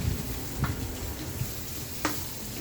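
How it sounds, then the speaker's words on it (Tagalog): Onions sizzle and fry in a pan with garlic for homemade pork adobo, a steady crackling hiss with occasional clinks as they are stirred. "Konti pang halo para maluto yung ating sibuyas"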